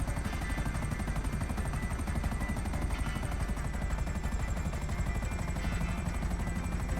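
Loud, steady rotor thump of an Akula attack helicopter in flight in Grand Theft Auto V, continuous and close throughout, with a high whine from the engine above it.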